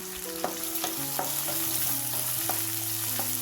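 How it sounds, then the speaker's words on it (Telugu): Thinly sliced onions frying in a pan after a low-flame roast: a soft, even sizzle under regular spatula knocks and scrapes, close and fairly quiet, no speech. "ఇప్పుడు ఈ ఆనియన్స్ అంతా 2-3 నిమిషాల పాటు ఫ్రై చేసుకోవాలి."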